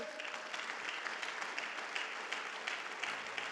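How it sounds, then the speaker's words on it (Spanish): A church congregation claps together in a dense, continuous burst of applause that holds at an even level for a few seconds. "démosle un aplauso fuerte a Él"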